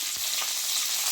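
Curry leaves sizzle in hot oil for a tempering, a loud, close, steady hiss and crackle with a soft knock at the start.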